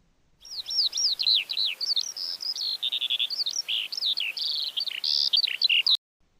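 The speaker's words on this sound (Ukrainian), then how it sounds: "Горобчики бадьоро цвірінькають, з півдня вже прилетіли перелітні птахи. В голубій височині задзвеніла весела пісня жайворонка." Sparrows chirp busily with a lark-like song in spring, a dense, continuous stream of bright, close twittering and trilled phrases with no voices.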